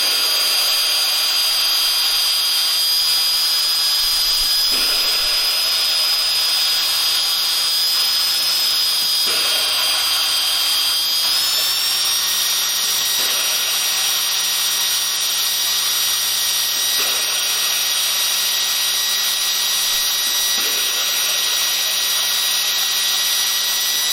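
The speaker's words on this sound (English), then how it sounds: "You can hear it grinding, and then it's gone." An engine valve is lapped into its seat on an LS-series LY6/LS3 cylinder head using grinding paste, giving a steady, close, continuous abrasive whirring grind with a few brief shifts in pitch, and no talking.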